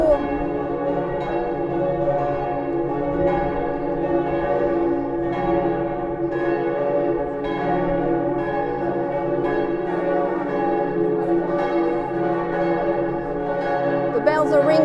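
Church bells peal continuously in medieval Vannes, Brittany, with overlapping strikes ringing out loud and rich in a town square setting and no voices on top.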